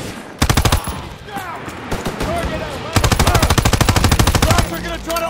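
Rapid bursts of automatic machine gun fire in a World War II battle scene from Call of Duty WWII, loud and close, with a long sustained volley in the second half and shouted voices mixed in.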